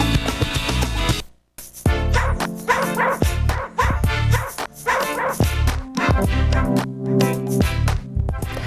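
A dog barks and yips repeatedly, loud and close, in rapid bursts with brief pauses, with some whimpering mixed in.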